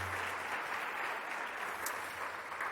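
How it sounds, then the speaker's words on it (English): An audience at an education conference gives presenters a steady round of applause, dense clapping sustained evenly throughout at moderate distance. "please, one more big round of applause for our presenters today"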